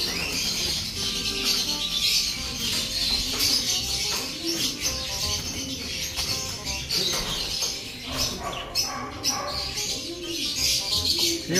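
A conure parrot chirps while being handled and moved toward a net and carrier, repeated bright chirps and calls with flapping and rustling, fairly close and steady across the whole stretch.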